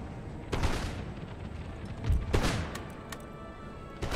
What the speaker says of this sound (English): they're getting pounded by the mortars, but that is part of the course. It's just what mortars do.